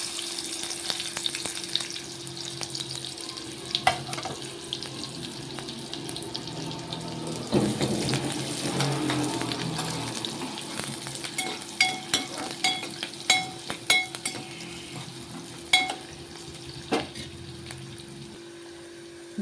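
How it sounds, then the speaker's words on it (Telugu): Onions dropped into hot oil while cooking capsicum prawns, a soft sizzle building midway with clinking stirs and scrapes toward the end; no voices. "మన ఆయిల్ వేడైంది. ఉల్లిగడ్డలు వేస్తున్నాండి."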